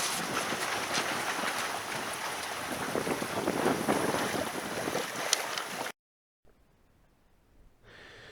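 A sailing boat moving down the River Alde from Snape toward Aldeburgh, with steady wind rush and water noise close to the microphone for several seconds before cutting out to near silence.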